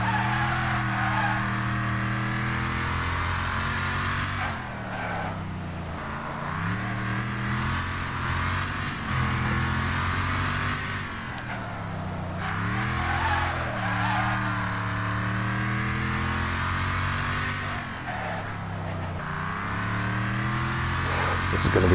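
Cars race and skid in the video game Wreckfest, with engines droning and revving steadily throughout. Tires squeal as the cars slide through corners, and a voice talks over the racing.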